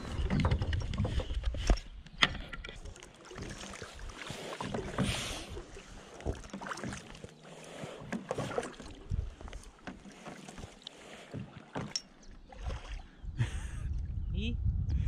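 Kayaks are paddled on open water at close range, with irregular splashes and dips of the paddles, hull knocks and gusty wind buffeting the microphone.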